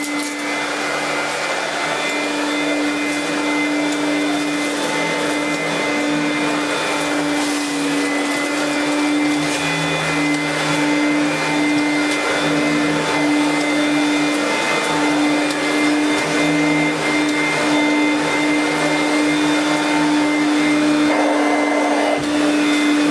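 A Vorwerk-style vacuum cleaner runs continuously at a close, loud, even whine with a steady tone and faint rattling, with no talking.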